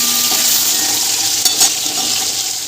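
Pieces of fish fry in a pan with a strong, steady crackling sizzle heard up close, broken by a couple of quick utensil knocks, with no voices present.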